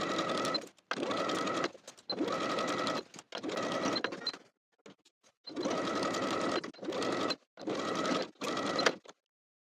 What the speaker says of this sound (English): We're going to sew the waistband to the top of the pant with a 1/2 inch seam allowance all the way around